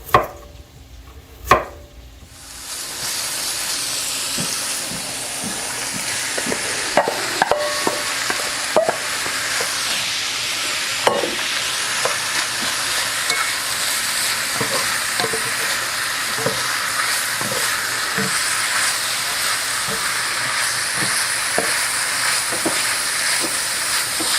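Bacon, onion and garlic for Zuppa Toscana sizzle and fry steadily in a pot, a loud continuous crackle with occasional stirring scrapes and clanks, close up.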